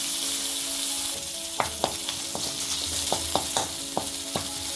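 Cumin, dried chillies and tamarind fry in hot oil with chana dal, giving a steady sizzle broken by a series of sharp spoon clicks and scrapes against the pan.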